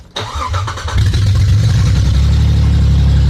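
A Jeep Grand Cherokee WK1 engine cranks briefly, catches and settles into a loud, steady idle with a deep exhaust rumble, close up and with no voices.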